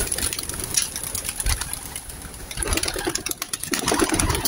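Racing pigeons coo around a rooftop amid a busy wash of fluttering wings and outdoor noise, the calls close and overlapping.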